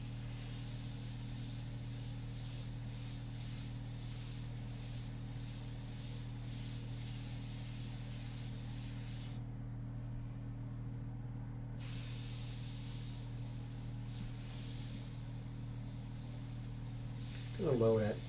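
An airbrush sprays ink onto a portrait painting with a steady close hiss over a low electrical hum. The spray cuts out for a couple of seconds, then resumes.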